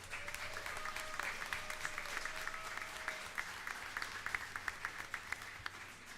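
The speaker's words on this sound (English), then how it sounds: "give them all a round of applause" Convention audience applauding its vendors in a large busy hall, steady sustained clapping from many hands with sharper individual claps standing out near the end, over a low background hum.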